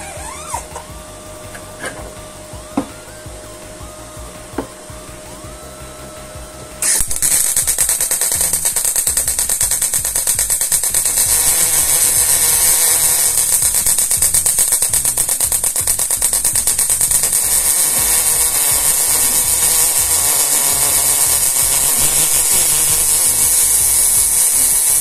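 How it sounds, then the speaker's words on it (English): A Stahlwerk MIG 200 ST welder set to 18 volts: several seconds of faint, sporadic clicks and pops as it struggles to start, then a steady, loud, crackling buzz of continuous welding. "you could hear it has a lot of difficulty starting up, but once it is welding, it welds okay."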